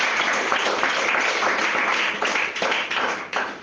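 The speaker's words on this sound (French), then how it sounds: "Tous acclamons donc pour le Saint-Esprit." A church congregation claps in praise, a dense, steady wash of applause from many hands filling the room, with a few louder individual claps standing out near the end.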